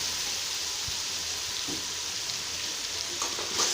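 Masala spices frying in oil in a pan over low heat while cooking tindy gosht, with a soft, constant sizzle and a few faint clinks from stirring.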